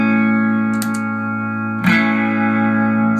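Electric guitar through a Fender Deluxe Reverb amp with only a Deja Vibe pedal on for a slight boost, holding a loud sustained chord with a couple of picked accents.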